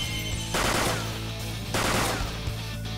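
Video game gunfire in Persona 5, two loud bursts of rapid shots with a brief gap between them, with no voices over them.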